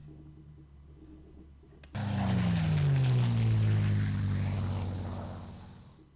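Propeller aircraft engines from planes in a wartime strategy game, an Operation Sealion scenario, surge in at about two seconds and drone loudly with a falling pitch, fading slightly near the end.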